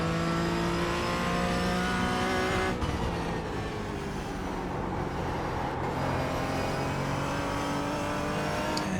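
A Porsche GT4 race car drives hard around the Summit Point circuit, its loud engine droning steadily throughout with shifting revs and a brief dip near the middle, heard from close up with no talking.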